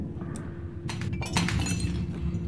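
Glass breaking and shattering inside a video game, a burst of crashing shards and tinkling debris over a steady low game hum, fairly close and moderately loud.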